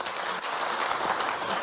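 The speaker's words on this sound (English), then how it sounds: "Yeah, this is your applause" Conference audience applauding as a speaker is welcomed on stage, a steady dense wash of clapping throughout, fairly loud and without talk.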